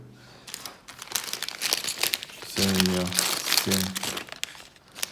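A paper bag holding a LEGO Star Wars minifigure is torn and crinkled open close up, with loud crumpling throughout while someone talks over it.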